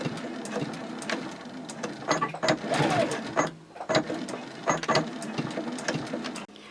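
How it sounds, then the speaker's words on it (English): A home sewing machine topstitches and backstitches fabric with close, whirring bursts of rapid needle chatter that start and stop several times, with brief pauses and small clicks between runs. "So I'm just going to go that far and backstitch."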